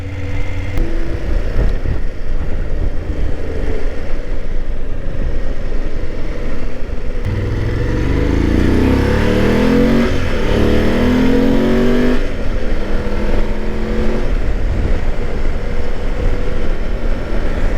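Motorcycle riding off and accelerating toward Pikes Peak, a loud, continuous engine roar climbing through the gears with rising and falling pitch, heavy wind rush over it, and no talking.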